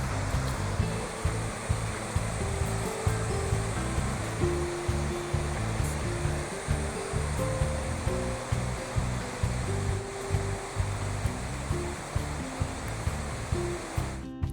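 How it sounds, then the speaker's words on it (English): Water from a large falls in a North Queensland rainforest rushes downhill in a steady, broad roar, heard from a moderate distance with a faint rhythmic rumble underneath and no voices. "watching loads of water rush down a hill in such a grand manner"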